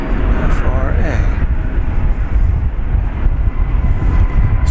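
Jet aircraft noise near DFW Airport around a Lufthansa flight, a steady broadband roar that stays loud and constant, with wind buffeting the microphone throughout.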